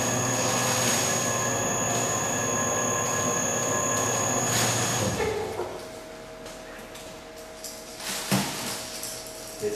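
Cold press oil expeller grinding golden flax through its barrel, a loud steady mechanical drone with tonal whine that drops away partway through, leaving quieter rattling and a few knocks.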